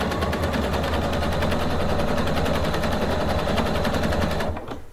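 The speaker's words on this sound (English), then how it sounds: "it sews the first part of the exclusive ribbon stitch" A PFAFF sewing machine stitches an exclusive decorative ribbon stitch, giving a loud, steady rapid mechanical rattle that runs continuously and stops abruptly near the end.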